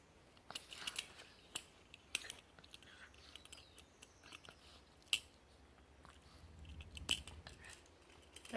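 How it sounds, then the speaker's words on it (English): A pet dog chews on something near the microphone, giving scattered crunchy clicks and snaps at irregular intervals over a quiet room background, with no talking. "can you hear him chewing?"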